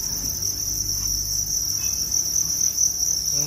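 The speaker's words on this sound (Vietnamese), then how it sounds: "Đây là thùng dế này." Crickets in a breeding box chirp in a dense, continuous high trill, close and loud, with no talk over them.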